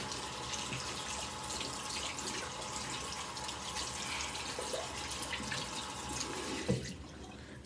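Water runs steadily from a tap as curly hair is rinsed out, a constant close splashing hiss with a brief clatter near the end, no one talking.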